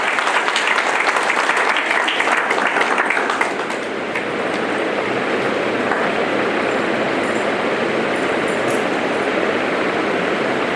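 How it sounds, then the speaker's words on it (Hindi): Loud audience applause fills a hall, dense clapping that peaks early and then settles into a steady, slightly softer wash of claps. "एक बार जोरदार तालियां होनी चाहिए।"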